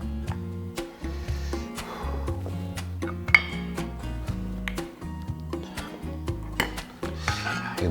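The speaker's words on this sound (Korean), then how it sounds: "한번 접시에 한번 옮겨 담아 볼게요" Korean braised beef short ribs (galbijjim) with seasonal vegetables being moved onto a plate, with repeated light clinks and taps of utensils against dishes, close by, some bright pings between quieter gaps.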